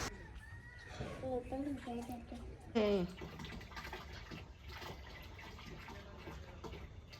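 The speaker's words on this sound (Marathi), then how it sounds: "आता पाईप लावून पाणी भरून घ्यायचं" Water gushes and splashes steadily into a container from a hose, with people talking over the running water.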